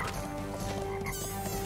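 Cartoonish frog croaking from Crash Bandicoot Warped, a short burst of steady, buzzy tonal croaks layered over game music and effects, fairly loud and without any talk.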